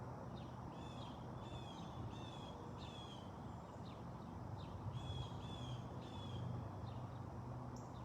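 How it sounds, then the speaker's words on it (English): Several crows caw repeatedly in short bursts over steady outdoor ambience, fairly distant, with a constant low background hum. "the sound of the birds."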